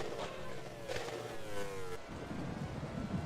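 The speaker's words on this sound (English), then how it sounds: "weird engine sound from Truly" Formula 1 car engine in the racing game Grand Prix 4 at the Malaysian GP, revving with rising and falling tonal whine, then a sudden drop to a rougher, grittier tone, moderately quiet.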